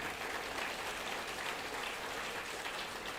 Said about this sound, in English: let's give her a round of applause as she comes on stage again